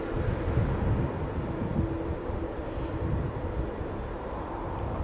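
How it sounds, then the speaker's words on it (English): A Boeing Dreamliner airliner lands at London Heathrow Airport with its landing gear down. A broad, steady roar sits under outdoor wind noise, fairly loud and unbroken, easing slightly toward the end. "I'm guessing that's a Dreamliner."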